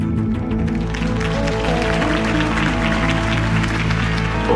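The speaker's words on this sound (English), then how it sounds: "could have heard that applause" Crowd applause at a campaign speech for Harvey Dent in Batman: The Telltale Series, a dense, steady clapping and cheering wash over a low music bed, sustained and loud throughout.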